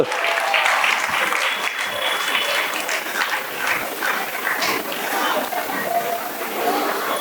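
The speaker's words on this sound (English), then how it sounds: "Another big round of applause." An audience applauds for a children's performance at a Radhastami celebration, sustained clapping at full strength throughout, with voices mixed in among the crowd.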